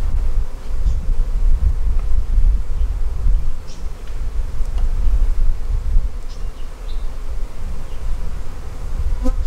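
Honey bees buzzing during a beehive inspection, a loud dense continuous drone close to the microphone, with light wind rumble and occasional faint clicks.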